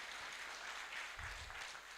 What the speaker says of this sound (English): Keep clapping, ladies and gentlemen.